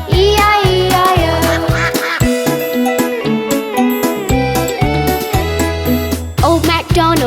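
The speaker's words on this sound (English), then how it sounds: "And on his farm he had some ducks, E-I-E-I-O. With a quack quack here and a quack quack there" Duck quacks, sung or played as a sound effect, repeat within a bouncy children's farm song about ducks on a farm, loud over steady instrumental backing.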